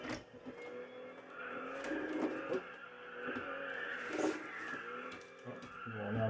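Car tires squeal and skid during drifting in a sim racing game, wavering screeches layered over a steady engine drone with a few clunks, fairly quiet overall.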